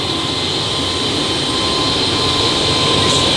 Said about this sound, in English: The noise you hear is the APU, Auxiliary Power Unit.